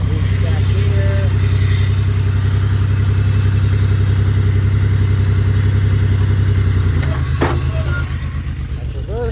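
A Chevrolet Impala engine runs steadily at a loud, close idle with a rumbling low drone, the pitch dropping slightly near the end as the car is readied to drive off a dolly.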